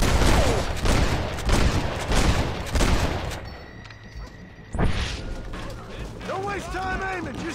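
Heavy gunfire erupts in a Red Dead Redemption shootout, repeated booming shots and volleys with shouting voices over them, easing into quieter mechanical clicks and speech near the end.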